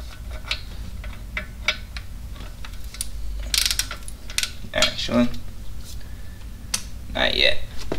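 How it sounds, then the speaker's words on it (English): Torque wrench ratcheting while tightening bolts during a 2JZ engine swap into a BMW: repeated quick metallic clicks come in short bursts, close and clear, with a voice speaking between them. "our torque wrench."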